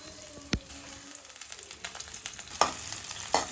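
Garlic fries in hot oil for a shark puttu dish, a steady close sizzle with crackling spits and occasional sharp utensil clinks against the pan, no voices.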